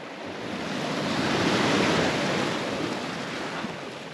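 Waves roll onto the beach at Bridlington in a broad, continuous wash of surf with some wind buffeting, swelling gently in the middle, with no voices.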